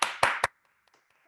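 Hand claps on a Zoom call during a recognition event, three sharp close claps in quick succession followed by near silence with a faint hum.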